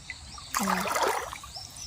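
Water trickles and splashes along a stream where shrimp traps are set, starting abruptly after a brief quiet moment and continuing as a close, bubbling rush.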